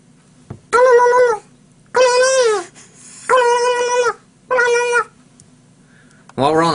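A man imitates a turkey call with his voice: four loud, warbling, nasal calls, each about a second long, separated by short pauses and heard close up.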